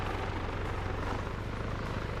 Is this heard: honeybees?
no